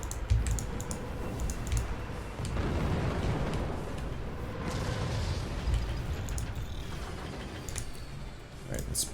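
In the artillery strategy game Forts, a volley of weapons fires at once: thumping launches and booming explosions swell into a sustained rumbling roar, with sharp clicks scattered over it and a voice talking at times.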